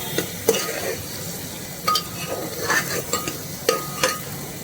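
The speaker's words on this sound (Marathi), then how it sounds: "एक चमचा काश्मीरी मिरची पावडर त्याला तर आपण हलवून घेऊया" Chili powder and Kashmiri chili powder stirred in a hot pan, an oily sizzle under repeated close scraping strokes of a spoon against the pan, spaced irregularly through the stretch.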